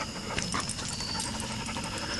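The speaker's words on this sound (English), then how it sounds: "dogs are still panting" Dogs panting at an overnight campsite by a fire at sundown, a quiet, steady, rapid breathy rhythm close by with a faint whimper-like note, no talking.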